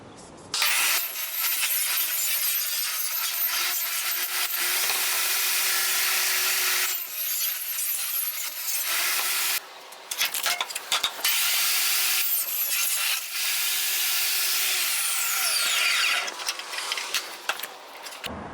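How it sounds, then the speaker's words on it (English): A power saw cutting a sprinkler pipe into segments, giving a loud, continuous high-pitched buzzing whine that runs for long stretches, broken by a few brief pauses and restarts. "I'm going to cut it in half with a saw and into 2 to 3 foot segments"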